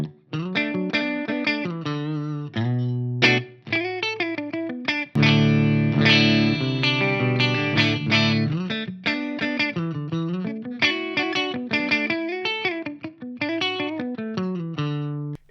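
An electric guitar through a rack preamp plays a melodic line with chords, first with the bass shift parameter off and then with it on, the tone mildly driven and alone without voices.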